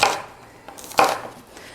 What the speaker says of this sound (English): I hate chopping onions